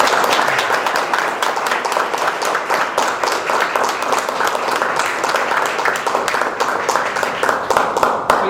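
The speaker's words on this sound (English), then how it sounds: "please join me in a round of applause" A crowd claps steadily and loudly, sustained applause filling the room without pause.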